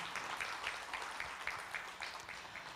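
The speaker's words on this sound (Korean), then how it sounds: "함께 환영과 격려의 박수 전해드리도록 하겠습니다. 박수 부탁드립니다." Audience at a women's peace gathering in Jeonbuk, clapping in a faint, fairly even patter of many hands, at a distance with no talk.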